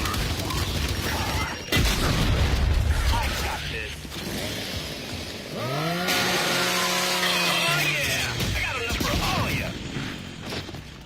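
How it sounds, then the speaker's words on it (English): Chainsaw in the Gears of War video game, a revving buzzing saw that grinds under game booms and gunfire, with a voice talking briefly in the middle. "It's fun to chainsaw the juvies."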